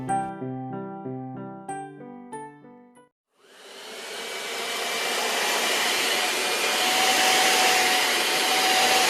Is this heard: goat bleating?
no